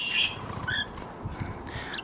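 Pet budgies chirp near an outdoor aviary, a few short, bright tweets and a quick trill spread over two seconds, faint to moderate against low background noise, with no one talking.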